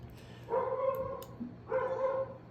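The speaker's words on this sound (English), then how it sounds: "this is, as you may hear, my dog's barking" A dog barks indoors in two short bursts of yapping, each about a second long with a gap between, moderately loud and heard alone.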